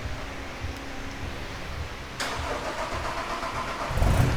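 A Toyota N80 Hilux engine with a 3-inch exhaust turns over with a sudden burst of noise, then settles into a steady idle rumble that grows slightly louder at the end.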